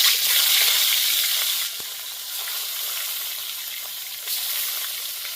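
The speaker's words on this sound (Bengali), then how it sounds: "বাকি মাছগুলো ভেজে নিচ্ছি" Pieces of an 800-gram river madhubhola fish fry in hot oil, giving a loud, steady sizzle up close that eases slightly partway through, with no talking.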